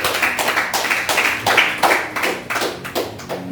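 A church congregation at a Sunday service claps in a steady, even rhythm, about two claps per second, loud and close, with no talking.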